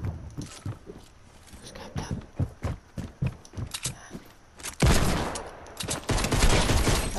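A rapid string of sharp gunshots crackles in a quick irregular rhythm, then gives way to a louder, denser burst of sustained firing and noise; a voice talks briefly over it.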